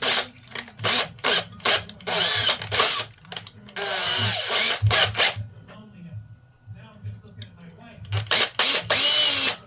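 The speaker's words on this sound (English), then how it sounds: "Right, a 4mm drill bit." A power drill fitted with a 4mm bit bores through material in repeated short bursts, high whining runs starting and stopping close by, separated by brief pauses, with low handling noises between them.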